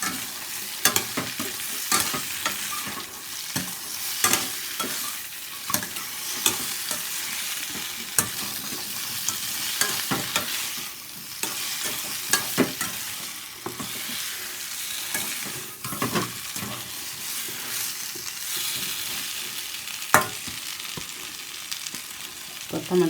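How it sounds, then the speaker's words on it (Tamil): Tapioca pieces with turmeric frying in coconut oil, a steady crackling sizzle broken by repeated scraping stirs of a spoon in the pan, close and continuous, no voices. "இந்த தேங்காய் எண்ணெயோட ஃப்ரை பண்ணும்போது நல்லா டேஸ்ட்டாக இருக்கும்."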